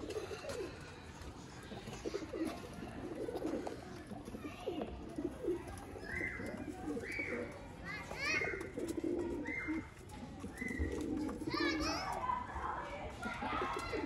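Pigeons coo and flutter softly in the background while children talk and play nearby, their voices mixing with the birds throughout.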